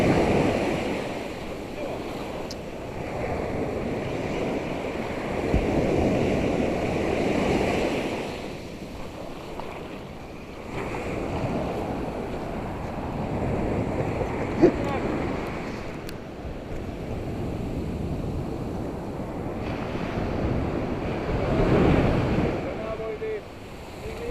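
Black Sea waves at Karasu surge and wash in repeated swells during shore fishing, mixed with gusty wind buffeting the microphone; no voices stand out.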